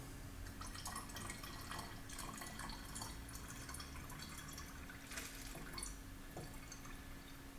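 Water trickling and dripping into diesel fuel during a Racor 1000 fuel-water separator test with YPF Euro grade 3 diesel, a continuous wet splatter with a low steady hum underneath and no talking.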